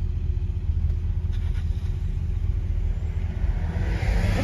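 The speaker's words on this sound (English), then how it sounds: "hope you enjoyed this brief drive in the 72 Imperial" Interior ride noise in a 1972 Imperial LeBaron luxury car on the move, a steady low road rumble and engine drone with a stiff-riding hum and no talk.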